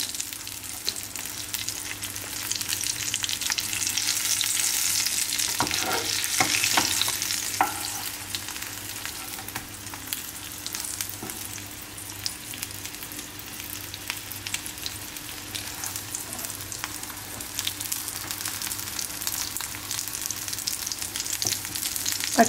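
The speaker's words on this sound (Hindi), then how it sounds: "देखिए अब आपका ये समोसा सिक रहा है।" A samosa made from leftover roti fries in hot oil over a medium-low flame. The oil sizzles in a steady, close hiss the whole time, with occasional soft pops and faint utensil clinks. No one speaks.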